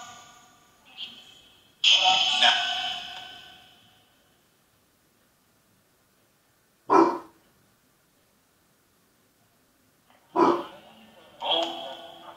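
A dog barks in a home in short separate bursts, loud and close, with long quiet gaps between them.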